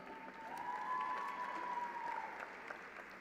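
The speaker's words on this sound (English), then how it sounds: "Once again, big round of applause for those recipients of the Master of Science in Health Psychology." Audience applause at a university commencement ceremony for master's degree recipients, steady, even clapping from a large crowd, moderately distant, with a sustained tone running underneath throughout.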